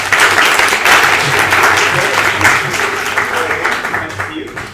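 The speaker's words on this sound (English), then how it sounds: "Please, another round of applause for Oscar." Dense, loud applause from an academic meeting audience greeting a speaker named Oscar, a full steady roar of clapping that gradually thins and fades toward the end.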